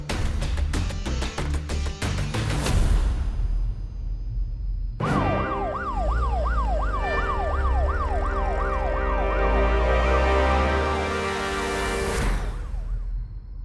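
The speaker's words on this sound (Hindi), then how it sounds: "पुलिस की गाड़ी तो निकल गई, मगर सिंह साहब यहाँ से नहीं निकले।" A loud wailing police car siren starts abruptly and sweeps rapidly up and down as it passes close by, engine rumbling underneath, then fades away.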